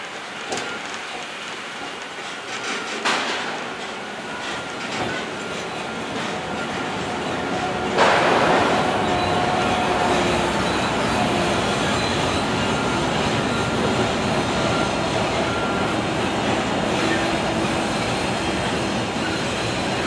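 The Disneyland Resort tram rolls toward the parking structure with a loud, continuous rumble, a sharp wheel screech partway through and steady clattering motion noise, heard from on board.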